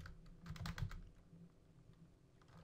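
Fingers type on a computer keyboard in a short burst of quick clicking keystrokes, quiet and close, then a few lighter taps as it tapers off.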